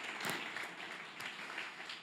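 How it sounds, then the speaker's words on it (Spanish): A congregation at a Sunday church service claps and applauds, a brief, faint burst of many hands at a distance. "Demos un fuerte aplauso al Señor por eso"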